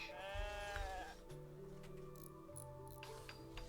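Sheep bleating in the video game RimWorld, one near wavering bleat at the start followed by softer, lower, drawn-out animal calls over a quiet game background.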